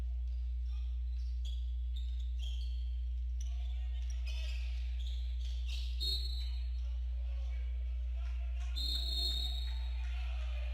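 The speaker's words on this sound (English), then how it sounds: "There's the whistle." A referee's whistle at a college basketball game calling a foul late in the game, a short bright shrill blast near the end, heard faintly over a quiet gym murmur and scattered court noise.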